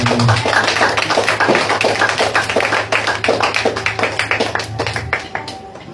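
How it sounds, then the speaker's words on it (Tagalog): A church congregation applauds loudly during a Filipino preaching service: dense, close clapping that runs steadily for several seconds, then thins into scattered claps at the end, with a low hum beneath. "Yung pumalakpak ng malakas, may magandang bagay ang darating na ligtas sa kanya."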